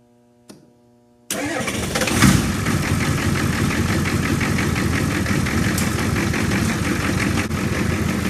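A cold 1985 Ford F-350 diesel truck with weak batteries: a brief click, then the engine cranks and catches abruptly, settling into a loud, steady, clattering idle that runs to the end with no talk.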